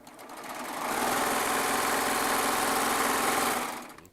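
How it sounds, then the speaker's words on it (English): A Baby Lock Triumph serger runs at full speed, ramping up within the first second into a loud, steady mechanical whir with fast rhythmic needle and blade clatter, then winding down just before the end. "As I'm sewing on the Serger."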